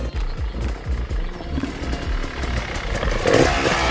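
An enduro motorcycle on the Wild West dirt track, its engine chugging in rapid rhythmic pulses close by, rising slightly toward the end, with no talking.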